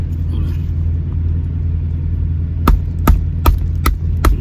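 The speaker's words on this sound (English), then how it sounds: "get the hammer" Four sharp metallic hammer knocks drive a tool into a coconut inside a truck cab, evenly spaced over a steady low engine rumble.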